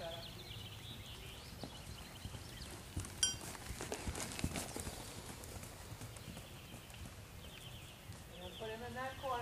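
Horse trotting in a riding arena, a steady rhythmic clip-clop of hooves on the footing at moderate distance, with a person speaking intermittently over it.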